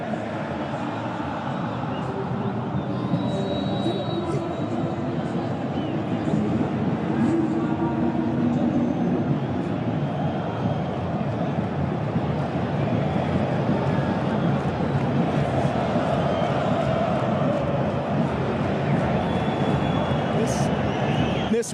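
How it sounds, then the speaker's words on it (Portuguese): Corinthians supporters roar in a packed stadium celebrating the Brazilian league title before a match against São Paulo; a broad, steady crowd wash with distant chanting, continuous throughout at even loudness. "E o som da torcida do Corinthians no estádio em festa pelo título brasileiro."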